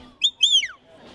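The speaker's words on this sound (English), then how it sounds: "I had no idea that you're actually using a device to make those whistles" Two sharp rising-falling whistle blasts from a handheld dog-handling whistle device used to command a working dog, loud and close, followed by quiet.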